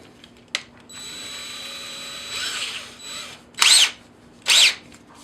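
A handheld power drill fitted with a small 1/8-inch bit runs in a steady whining spin for about two seconds, then gives two short, louder bursts of drilling, close by with no talking.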